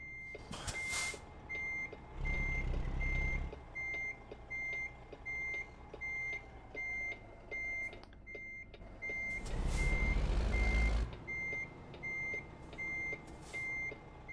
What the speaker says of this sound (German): Ich und rückwärts einparken hier mit dem LKW hier.